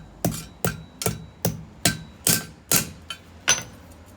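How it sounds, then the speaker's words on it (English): Hammer tapping a dynabolt into a hole drilled in a concrete slab during deck construction: nine sharp, close metallic strikes at a steady rhythm, each ringing briefly, heard alone. "our dynabolt in, down, through. I just give it a little tap on the hammer."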